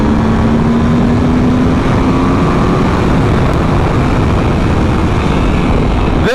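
A 2022 Aprilia RSV4 Factory 1100 roars on a race track, a loud, continuous engine howl with rising pitch as it accelerates, heavy wind buffeting throughout and no talk.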